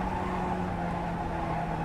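Race car driving on track in iRacing, a continuous loud engine drone with steady tonal harmonics, sustained without break and with no talking.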